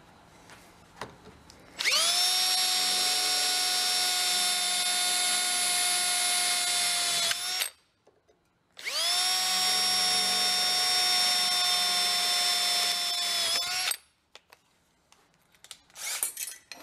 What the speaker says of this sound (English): we'll drill two holes in it